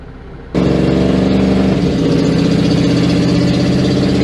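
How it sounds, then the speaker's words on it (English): A 1987 GMC Jimmy engine jumps from a quiet idle into a loud, steady rev after half a second, holding a strong, even roar close by with no one talking. "Let's see what giving it a little wind does."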